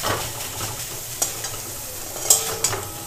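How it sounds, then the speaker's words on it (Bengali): Taro leaves stirred and fried dry in a pan, a continuous loud sizzle broken by several scraping knocks of the spatula against the pan, close up with no voices. "ভালো করে নেড়ে চেড়ে নেব আর কষিয়ে নেব একেবারে শুকনো করে"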